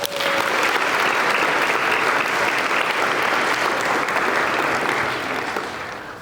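An audience at a school Recognition Day ceremony applauds as a speaker is welcomed to the stage, loud sustained clapping from a large crowd that holds steady for several seconds before fading out.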